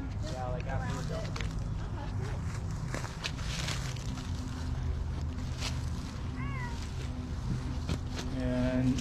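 A big cat at a rescue sanctuary vocalizes with a few short, rising calls amid people talking and footsteps, the calls moderately loud against a steady background hum.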